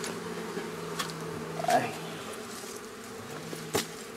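Honeybees buzzing around a beehive, a steady close hum with occasional louder passes as bees fly near, while someone talks over it.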